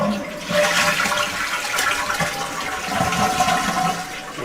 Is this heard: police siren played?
no